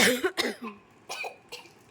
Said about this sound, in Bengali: হঠাৎ করে কাশি হচ্ছে কেন?